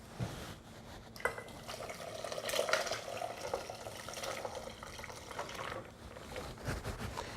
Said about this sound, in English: I'm just going to pour my liquid with the pickles into it into a bowl that I've prepared with ice